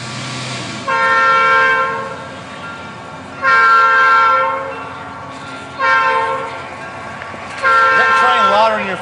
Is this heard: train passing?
yes